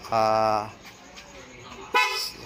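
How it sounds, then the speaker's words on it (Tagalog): Two short, bright horn toots from a Honda Click V2 scooter horn, close by, separated by a brief pause. "Loud horn"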